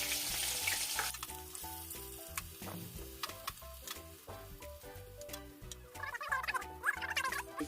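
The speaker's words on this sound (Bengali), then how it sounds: "তোমরা দেখতেই পাচ্ছ পেঁয়াজটা আমার ফ্রাই হচ্ছে" Finely chopped onions frying in hot oil for chicken biryani, a steady crackling sizzle with light stirring clicks, heard faintly under a rhythmic background of music.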